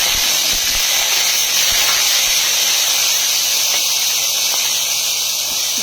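Garlic and onion hit a hot pan, giving a loud, steady hissing sizzle that runs unbroken throughout, close up and with no talking.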